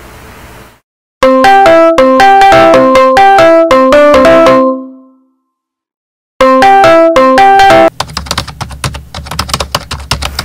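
A mobile phone rings with an incoming call: a bright electronic ringtone melody plays loudly, stops for about a second, then starts again before giving way to rustling handling noise, with no one speaking.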